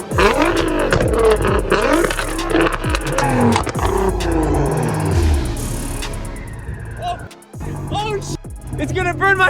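A supercar revs hard while shooting exhaust flames, its loud engine surging and popping up close, mixed with excited shouting and talking voices throughout.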